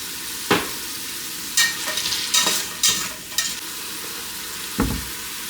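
Onions cooking down in a pan for savory pickled eggs, a soft constant sizzle broken by several sharp scrapes and clacks of a utensil stirring, close by and without talk.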